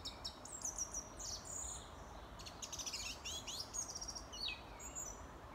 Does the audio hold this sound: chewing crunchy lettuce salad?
no